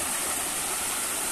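Water rushes steadily through a small farm stream, a dense continuous wash of flowing water heard close up with no voices.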